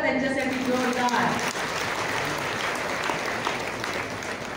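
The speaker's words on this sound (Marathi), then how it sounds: "जरा टाळ्या वाजवा त्यांच्यासाठी जोरदार" A crowd at a women's rally in Ahmedpur breaks into loud, sustained applause. A voice is briefly heard at the start, then dense clapping fills the space and slowly tapers without stopping.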